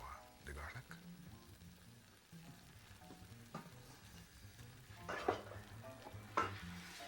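Garlic sizzles and is stirred in a pan in a kitchen scene, a faint, steady frying hiss broken by a few louder scraping stirs.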